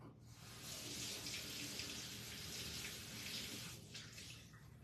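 A tap runs steadily to wet a brush for cleaning, an even, faint stream of water splashing into a sink for several seconds with no talking.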